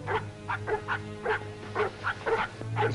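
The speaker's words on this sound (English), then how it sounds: "It's a dog. He's hurt. He's limping." A hurt, limping dog in a snowy Yukon setting barks in a quick series of about nine sharp yips and woofs, close and fairly loud over a low steady hum.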